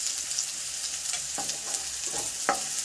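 Onion and curry leaves sauté in a pan with a steady, close sizzle, while a spoon stirs through them now and then with a few soft scrapes.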